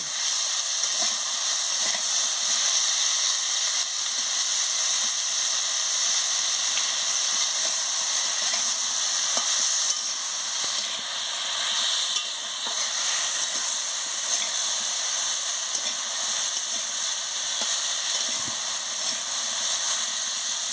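A raw tamarind sour dish sizzles and hisses steadily as it fries in a pan while being stirred, a continuous bright frying noise with faint scraping, no talking.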